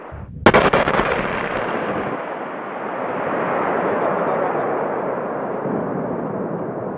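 Explosive charges blast a river ice jam near a settlement in March: one sharp, loud detonation is followed by a long, rolling roar of falling ice and debris that fades slowly.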